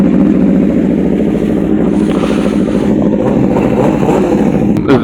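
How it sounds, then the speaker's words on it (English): A car engine revs hard and steadily at close range, a dense droning roar filling the whole stretch with no talk over it. "This dude is just revving."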